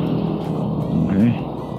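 A NWOW WSP electric scooter on new 100/90/12 and 110/90/12 quick tires runs at full throttle during a speed test, giving a steady close drone with wind noise and a brief swell near the middle.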